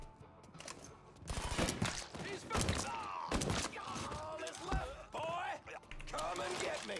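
Loud bursts of gunfire in a Mafia III shootout, rapid cracks and rattling volleys in uneven clusters, with game voices and a player's excited talk running over and between the shots.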